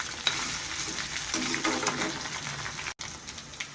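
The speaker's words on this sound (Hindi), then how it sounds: "अब जो है ये हम कड़ी पत्ता डाल देते हैं इसके अंदर, और ये ज़ीरा और राई भी जो है वो इसके अंदर डाल देते हैं" Curry leaves, cumin and mustard seeds frying in oil, a steady close crackling sizzle with faint stirring, fairly quiet and briefly cut near the end, no voices.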